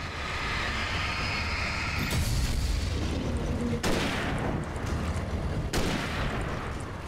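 Gunfire in the video game Alan Wake, during a nighttime fight. Three sharp, loud shots land about two seconds apart, each a broad burst over a dense rumbling game soundscape, with no one talking.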